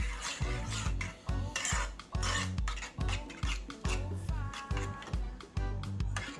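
A spoon stirs barbecue sauce with a half teaspoon of vinegar in it, making rhythmic scraping and rubbing strokes against the container, steady and close, with no talk over them.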